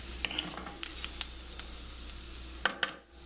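Israeli couscous and corn browning in a hot pan, a steady soft sizzle and frying crackle throughout with a few sharp pops and stirring clinks, no talking.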